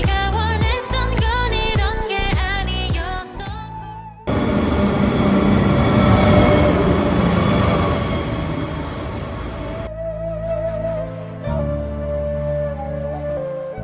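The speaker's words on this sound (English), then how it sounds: "We took a high-speed train to Jeonju" Music plays first, then the loud interior rumble and rushing noise of a high-speed train from Busan to Jeonju, South Korea, takes over for several seconds before music returns.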